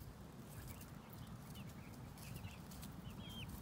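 Chickens and a small hen clucking faintly on a farm, soft scattered clucks and brief higher calls over a low steady background hum, with no voices.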